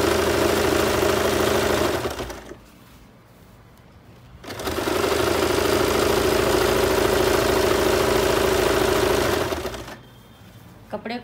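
A sewing machine stitches fabric for palazzo pants in two long, close, steady whirring runs, separated by a short quieter pause and ending in another brief lull.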